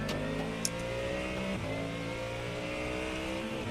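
Race car engine in the iRacing video game at Bathurst, holding a steady high drone as it upshifts, with a quick dip and recovery in pitch partway through, continuous and close.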